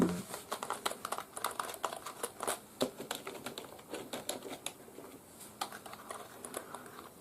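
Typing on a Logitech K275 wireless keyboard, a run of light, irregular key clicks at close range, with brief pauses between bursts.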